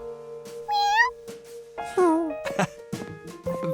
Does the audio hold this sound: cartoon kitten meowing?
yes